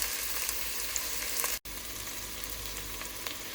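Onions and curry leaves sizzle in a hot pan for a Sri Lankan potato curry, a steady crackling hiss with scattered pops, broken by a brief instant of silence midway, no talking.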